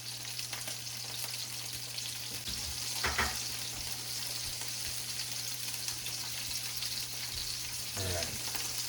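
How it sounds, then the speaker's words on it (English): Salmon skin-side down sears in a hot pan with a steady, quiet sizzle and crackle that runs throughout, with a low hum in the background and a few brief bumps. "We'll let the salmon skin brown in the pan for just a little bit"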